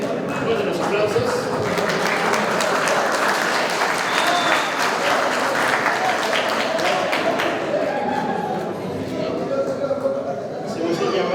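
Loud, sustained applause from an audience at a graduation ceremony for a motorcycle and vehicle mechanics class, a dense steady wash of clapping lasting throughout with crowd noise underneath.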